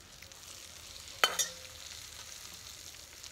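Gooseberries for pickle frying in spiced oil give a soft continuous sizzle, broken by a couple of sharp clinks of a spoon against the pan partway through.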